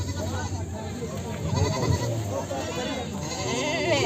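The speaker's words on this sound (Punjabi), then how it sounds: "ਆਹ ਬੱਕਰੀ ਆ ਤੇ ਆਹ ਪਾਠਾ" Goats, a nanny and a white Barbari kid, bleating close by at a goat market amid a steady background of people talking and general farmyard noise.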